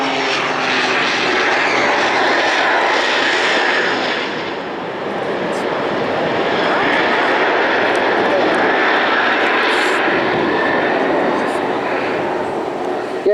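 A Pitts Special aerobatic biplane, jet-assisted, roars loudly and steadily at the Blackpool airshow, its engine noise continuous and dense throughout, dipping slightly before swelling again, with commentary voices blended underneath.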